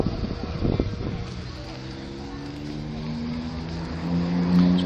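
A big sports car sits at a paddock event, its engine idling and then revving up so the pitch climbs over a low rumble, with wind noise and someone talking over it.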